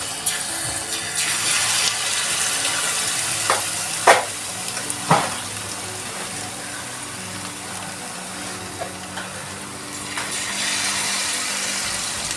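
Jamaican-style saltfish fritters, a turmeric-seasoned batter, drop into hot oil and fry with a steady close sizzle, punctuated by a few sharp spatters and splashes as pieces go in.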